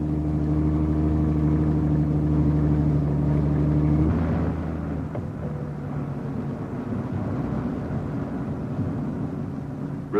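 A Ford automatic car's engine, held in low gear while descending a mountain road, drones in a steady, low-pitched hum that shifts down in tone midway, then carries on as a rougher, lower rumble.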